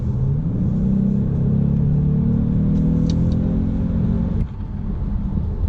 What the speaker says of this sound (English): the first thing I like to point out about the Stinger is its twin turbo V6 engine that does come available on the GT models